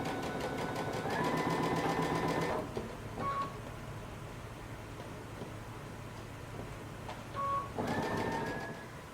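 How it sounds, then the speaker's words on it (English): A sewing machine runs close by stitching a double hem near a folded fabric edge, with two steady whirring bursts separated by a quieter pause and a couple of small clicks. "I'm going to sew close to the edge."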